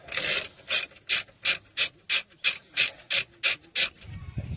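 A ratchet or socket wrench undoes 18mm bolts on a Volkswagen Passat/Audi A4 during CV boot replacement, giving about ten evenly spaced rasping clicks close up with no talk.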